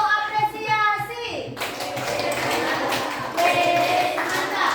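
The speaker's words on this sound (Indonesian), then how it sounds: "Oke, kita kasih tepuk apresiasi." A classroom group claps together in appreciation, a dense and fairly loud burst of many hands, with children's voices and talk mixed in throughout.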